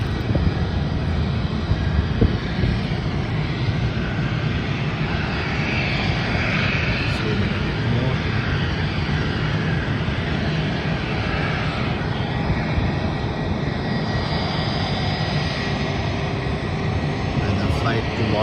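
Virgin Australia Boeing 737 taking off, its engines producing a continuous broad roar that holds steady and loud throughout, with no break.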